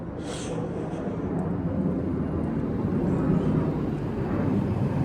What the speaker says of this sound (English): I don't know if you guys can hear the planes above.